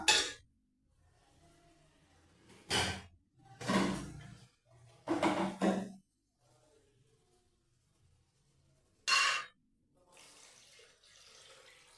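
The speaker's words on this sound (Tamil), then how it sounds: "அதுக்கு வந்து நம்ம 4 டம்ளர் தண்ணி ஊற்றிக்கலாம்" Water poured from a tumbler onto rice and lentils in a cooking pot, several short splashing pours separated by quiet pauses, close and clear.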